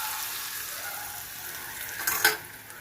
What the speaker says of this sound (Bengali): তো এই মশলার তেলটা এখন আমি আমের মধ্যে দিয়ে দিলাম।